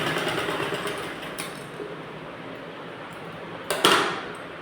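A sewing machine stitches a seam on a net fabric blouse, humming steadily with a fast mechanical patter and ending in a sharp knock near the end, close and without talk.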